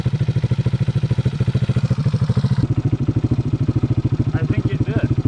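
A blown ATV engine from a Honda 200X versus Yamaha Blaster drag race runs roughly nearby, a fast, pulsing rhythmic clatter that stays loud and uneven throughout, with brief voices underneath near the end.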